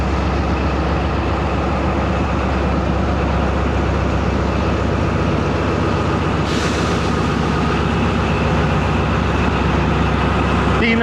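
A ZCU 3000-horsepower diesel locomotive hauling the Tezgam train rumbles steadily at Hyderabad Junction, a loud, continuous low drone up close, with a burst of higher hiss partway through.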